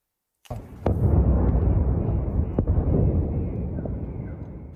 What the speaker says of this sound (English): explosions could be heard across the city